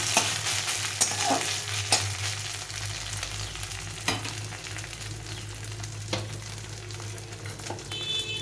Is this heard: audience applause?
no